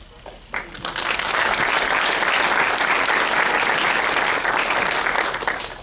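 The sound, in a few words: audience applause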